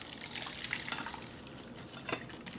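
Soy broth strained off hard-boiled eggs, a soft close trickle and patter of liquid lasting a couple of seconds, quiet and steady with a slightly brighter splash near the end.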